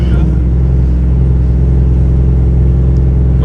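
A manual transmission car's engine idling low and close to stalling, with a loud, steady rumbling drone that holds unchanged throughout with no revving.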